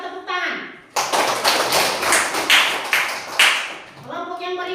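Group of people in a class clapping hands together, a loud burst of rapid, slightly uneven claps lasting a few seconds between stretches of talking.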